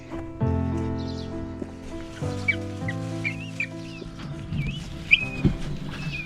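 Peafowl chicks peep in short high chirps and whistles while being moved to a brooder, with clunking handling noises and a low mechanical hum underneath.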